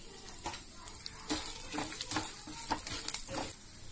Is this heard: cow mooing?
no